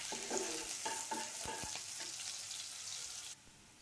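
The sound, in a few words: onion and chili being stirred and fried in oil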